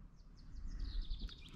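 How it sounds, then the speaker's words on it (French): Faint morning birdsong drifts in outdoors at a van campsite in the Verdon area, a run of thin, high chirps and tweets over low rumbling background noise. "il y a le bruit des oiseaux"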